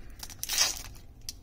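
A short, close ripping of a foil Magic: The Gathering card pack torn open by hand, one bright tear lasting under a second followed by a faint crinkle.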